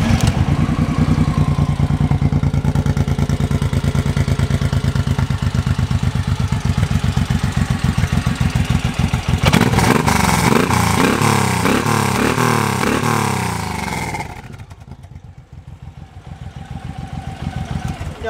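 An 07 Suzuki Boulevard M109R motorcycle engine fires up and runs, a loud steady throb with rising revs in the middle, then settling lower near the end.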